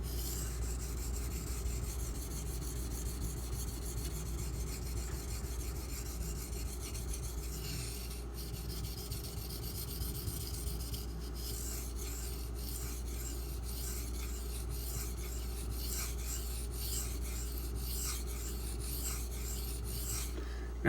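A custom Marfione Socom Elite knife blade is sharpened on an Imanishi 400 grit whetstone, giving a soft, continuous rasping stroke repeated steadily and heard up close over a low background hum.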